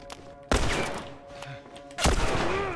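Two loud gunshot blasts from The Last of Us, one about halfway through and another near the end, each with a sharp attack and a rumbling tail over a steady game soundscape.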